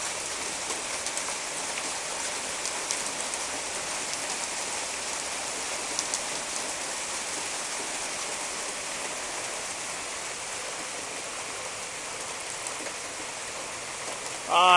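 Small hailstones, smaller than peas, pelt down hard in a hail storm, making a dense, steady hiss of impacts that holds evenly throughout with a brief louder burst at the end.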